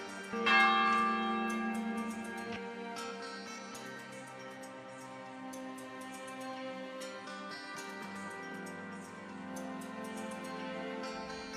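A monastery church bell rings out in a series of rich, resonant strikes, the first one loud and the rest fading into long overlapping hum and ringing tones that sustain throughout.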